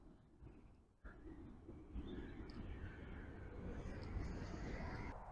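A train passing by a field of rapeseed in spring countryside, heard from some distance as a low steady rumble that builds and holds for several seconds, fairly faint.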